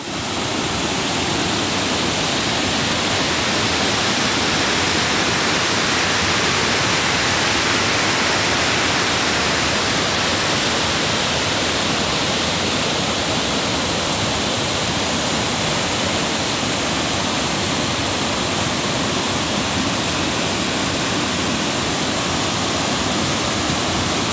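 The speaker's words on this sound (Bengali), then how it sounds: "এই যে এখান দিয়ে জলটা পড়ছে" A waterfall on a road trip through Jharkhand pours down in a loud, dense, unbroken roar of falling water that stays constant and close throughout, with no voices.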